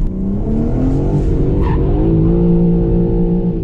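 A BMW M3 Touring drifts, its engine held at a loud, steady high rev with shifting pitch while the tyres hiss and squeal beneath, close and continuous.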